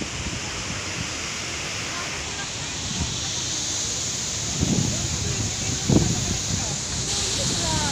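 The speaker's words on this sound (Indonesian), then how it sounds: "naik lebih tinggi, mendekati bawah dari air terjun PONOT ini" The Ponot waterfall in Asahan, North Sumatra, heard from close beneath its base, a steady loud roar of falling water like dense broadband hiss with a few brief thumps and rustles from the person recording.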